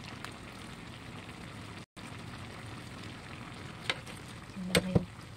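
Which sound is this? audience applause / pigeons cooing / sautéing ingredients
sautéing ingredients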